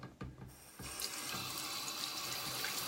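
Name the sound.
tap water running while rinsing a makeup brush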